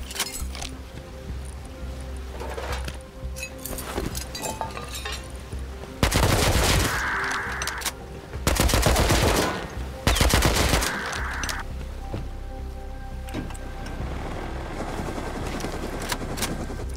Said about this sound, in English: Dude, MP5 burst fire is insane.